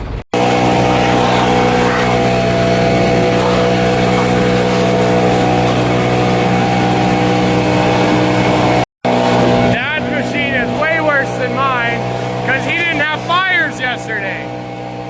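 A combine harvester engine warms up after a cold start, holding a loud, steady, close idle drone for several seconds before cutting off abruptly. People then talk over a quieter background.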